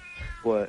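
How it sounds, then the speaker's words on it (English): A house cat gives a short, close meow on a bed, rising and then falling, just after a person asks a quick question. "No, that's my cat."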